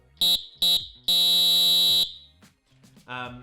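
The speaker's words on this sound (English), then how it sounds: "and then I'm going to do it on the Fox 40 whistle, electronic whistle." A Fox 40 electronic referee whistle gives two short beeping tones then one long steady electronic tone, harsh and buzzy like an alarm, followed by faint background talk.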